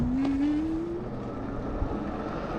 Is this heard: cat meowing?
no